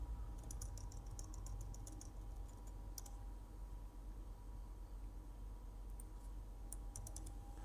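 Keys clatter on a computer keyboard in two short bursts of quick clicks, close and fairly quiet over a low background hum, with a pause between.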